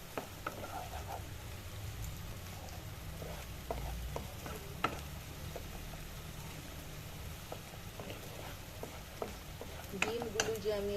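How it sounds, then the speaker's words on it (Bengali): Egg yolk mashed into a spice paste fries in a pan for a malai dish, giving a steady soft sizzle with scattered stirring scrapes and clicks throughout, fairly faint and continuous. "মশলাগুলোর সাথে কুসুমটা পুরো পেস্ট হয়ে এইটা ভাজা ভাজা হচ্ছে"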